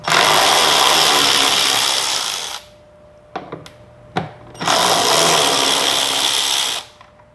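A power tool drives out tail light screws with a 10mm socket on a Nissan Pathfinder, close and loud, in two long whirring bursts separated by a few short clicks.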